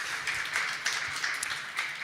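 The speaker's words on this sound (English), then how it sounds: "Yes, you can clap, I don't know. You can clap yourself" Audience applause at a cooperative conference: a steady, fairly faint wash of many hands clapping for about two seconds, with no voices over it.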